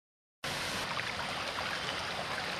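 Floodwater rushes downhill through a residential yard, a steady, broad wash of flowing water that starts abruptly and stays even and fairly loud, with no voices.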